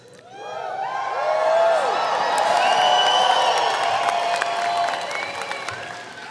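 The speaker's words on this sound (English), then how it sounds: "I want you to cheer after I say it." A graduation convocation audience of family and friends cheers and applauds. Whoops and shouts swell quickly into a loud, sustained roar of clapping that gradually eases.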